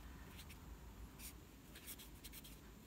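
Pen or pencil writing on paper during a maths lesson makes faint, short scratchy strokes in a few quick clusters against a quiet hiss of room noise.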